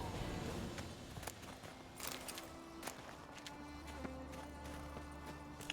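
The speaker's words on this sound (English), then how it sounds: "That was a horse." Faint clip-clop of a horse's hooves from the Witcher 3 video game, soft and continuous under a steady hum of game ambience, with a few light thumps and tonal game sounds.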